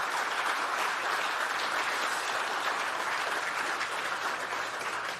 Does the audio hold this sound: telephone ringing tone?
no